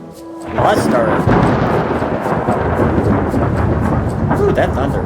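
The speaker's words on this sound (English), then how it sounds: "Ooh, that thunder." Thunder rumbles loud and continuous over steady rain in Return to Monkey Island, a broad storm roar that swells after a quiet start and holds for several seconds, with faint talk underneath.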